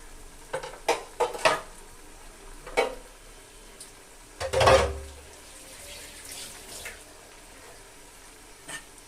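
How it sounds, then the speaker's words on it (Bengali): Prawns go into a pan of spice masala and are stirred, giving scattered clacks and scrapes of a spoon against the pan with one louder splat of the prawns landing, over a faint sizzle. "তো চিংড়ি মাছটা দিয়ে আবার একটু নেড়ে চেড়ে দেবো, আর মশলার সঙ্গে চিংড়ি মাছটাকেও কিন্তু একটু কষিয়ে নিতে হবে"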